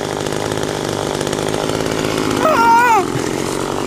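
A chainsaw cuts small spruce trees in the Tatra mountains, a loud, steady motor buzz close to the listener that briefly revs higher near the end.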